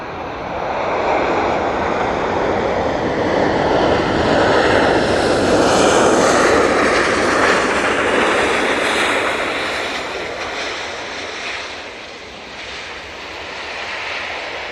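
A plane lands at Manchester Airport with a heavy, touchdown-like roar of jet engine noise swelling and then easing off, loud and steady throughout with no talking.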